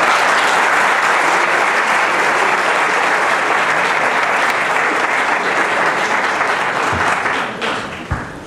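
Sustained, loud audience applause for a pianist and orchestra director at a Colombian music tribute event. The clapping is dense and steady, then thins and fades near the end, with no talk over it.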